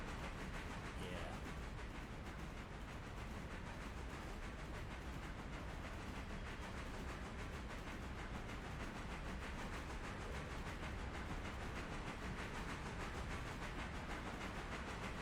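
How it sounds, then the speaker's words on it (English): A train rolls steadily along the tracks in the Railroader railroad sim game, giving off a continuous broadband rumble and hiss that holds at an even level throughout, with no clear rhythmic clatter. "If I threw a fusee in front of this train right now, it would stop dead."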